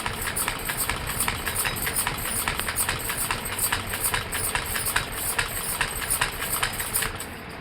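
A hand-cranked sewing machine runs with a fast, steady mechanical clatter, a rapid rhythmic ticking of the needle mechanism repeating close by without a break.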